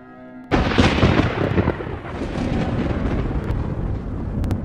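A thunderstorm erupts after a brief quiet start into a loud, deep rumbling thunder crash that decays into sustained rolling rumble with rain-like hiss, with a few faint clicks near the end.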